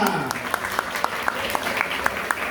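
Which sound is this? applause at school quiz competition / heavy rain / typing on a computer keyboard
applause at school quiz competition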